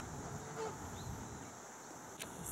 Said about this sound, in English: Take another good look at the geese.